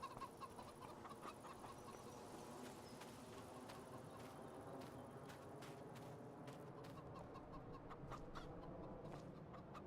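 Chickens cluck steadily in a Farming Simulator 25 farmyard, with scattered sharp ticks and clip-clop-like knocks over a dense, continuous flock chatter; no talking.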